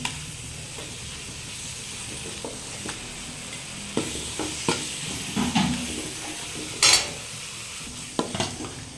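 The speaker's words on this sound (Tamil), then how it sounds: "நல்லா மசாலா பிடிக்கிற அளவுக்கு ஃப்ரை பண்ணிக்கலாம்" Chicken masala with ginger, garlic and shallot paste fries in a pan, a soft continuous sizzle broken by sharp spoon clinks and scraping stirs against the pan, close and without talk.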